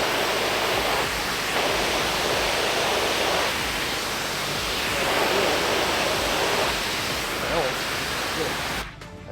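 Fresh water runs from a power washer machine during a house rinse, a loud continuous hiss with some swelling, cut off abruptly at the end.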